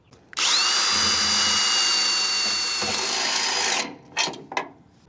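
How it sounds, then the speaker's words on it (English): A power drill bores through the metal tubing of a GMC CCKW truck being made into a trailer, one loud sustained whining run with a rising squeal, then a few short bursts as it stops. "I drilled it as close as I could to the middle"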